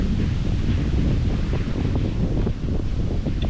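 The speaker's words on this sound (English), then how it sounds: "Man, it's so windy." Strong wind at an outdoor wild campsite batters the microphone with a loud, continuous low roar and rustle throughout, with no voices.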